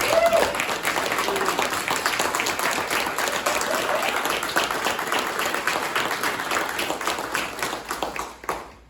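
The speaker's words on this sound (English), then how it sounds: "Y'all applaud that young man." An audience at a regional meeting breaks into loud, sustained applause with crowd murmur beneath it, staying full and steady before tapering off sharply at the end.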